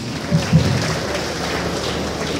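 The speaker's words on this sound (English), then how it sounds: "I think he deserves another round of applause." An audience applauds the commissioner for information and strategy at a public stewardship address, a broad wash of clapping that sounds almost like rain, steady and moderately loud with a couple of brief louder bumps near the start.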